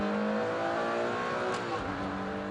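Ferrari Enzo sports car with paddle-shift gearbox accelerating hard, the engine note climbing in pitch and dropping briefly at quick gear changes, loud and close with no talking.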